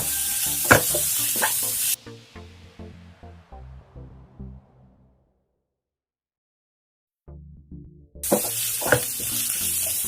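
Ginger-garlic paste for a vegetable kurma is sautéed in a pan, with close stirring clatter and a bright sizzle. The sound cuts out, returns as softer scraping, then the loud sizzle comes back.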